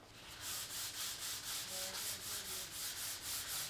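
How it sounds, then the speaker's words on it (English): Steady back-and-forth sanding strokes on the edge of a bamboo board, a rhythmic gritty hiss repeating about three times a second, close and even. "we'll keep sanding until we've got a clean edge all the way around."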